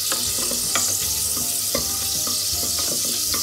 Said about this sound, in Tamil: வதக்குறா